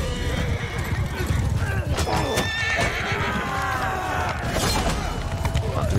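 Horses in the Mount & Blade II Bannerlord video game give loud, drawn-out neighs and whinnies over continuous galloping hooves, with a few sharp clanks and knocks in a busy, close battle mix.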